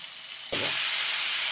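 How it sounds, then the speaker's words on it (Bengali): Boiled cabbage hits hot, well-fried spice paste in a pan, bursting into a loud, sudden sizzle after a quiet moment, then settling into a steady, bright hiss that continues without talk. "মশলাটা কষে গেছে, এবার দিয়ে দেবো সেদ্ধ করে রাখা বাঁধাকপি।"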